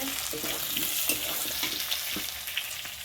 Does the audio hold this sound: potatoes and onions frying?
yes